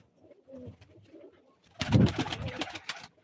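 A pigeon coos at a live pigeon auction, a short throaty burst following some quieter background sounds, fairly close.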